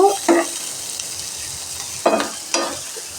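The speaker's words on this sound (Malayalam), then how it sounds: "ഇത് നമുക്ക് ഈ സവാളയും തക്കാളിയും ഒന്ന് വഴറ്റിയെടുക്കാം" Onion and tomato sautéing in a pan, a few brisk scraping stirs over a continuous soft sizzle.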